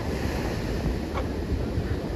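Sea surf washing in along Devgad beach in Maharashtra, a steady broadband rush of waves mixed with gusty wind buffeting the microphone, continuous and fairly loud throughout with no voices.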